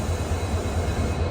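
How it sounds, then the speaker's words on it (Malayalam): A Namo Bharat rapid rail train pulls out of a station, its low rumble and rolling hum steady and close for a brief moment, with no voices. "വിറങ്കത്തുനിന്ന് ഇതാ ട്രെയിൻ അഹമ്മദാബാദിനെ ലക്ഷ്യമാക്കിക്കൊണ്ട് പോവുകയാണ്"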